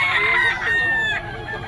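A stag rooster crows at a busy pet market, one long, loud, harmonic call held for more than a second and then tailing off, with faint crowd noise underneath.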